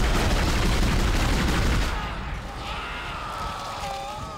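Gunfire in the video game Dead Space, a dense, loud barrage of shots in the first two seconds, then fading into a quieter rumble with tonal sci-fi ambience.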